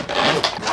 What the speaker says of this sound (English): It does open using these YKK zippers